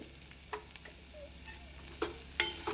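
Potato fry stirred in a pan on high flame, a faint low sizzle under occasional sharp clinks and scrapes of a spoon against the pan.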